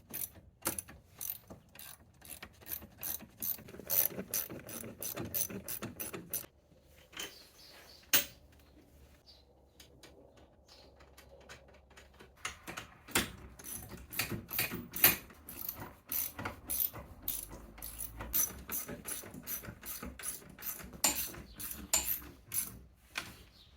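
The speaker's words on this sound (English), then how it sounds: "now we're going to bolt the seat to the swivel base with these provided bolts" Ratchet wrench clicking in rapid bursts while bolting a camper van swivel seat to its base with bolts and washers, close and crisp, pausing midway for quieter handling before the clicking resumes.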